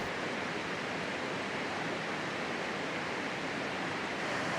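Waterfall in Panthertown Valley, North Carolina, with currents zigzagging in many directions: a steady, dense broadband rush of falling water, close and constant throughout, with no voices.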